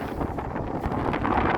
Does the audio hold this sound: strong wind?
yes